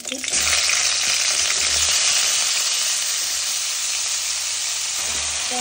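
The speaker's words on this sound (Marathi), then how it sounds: "आता आपण उकळून घेतलेली फ्लावर आणि वाटाणे घालूत त्यामध्ये" Boiled cauliflower florets and peas hit hot oil with cumin and mustard seeds, bursting into a loud, steady, close sizzle that holds as a continuous hiss with a few stirring knocks.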